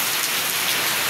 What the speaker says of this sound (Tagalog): At yung ulan po naman walang tigil talaga.